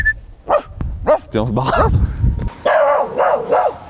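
Dogs bark and yip at a large house during a French property-tour show, with a short burst of barks in the second half mixed in among people talking nearby.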